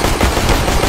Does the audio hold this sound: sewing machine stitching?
no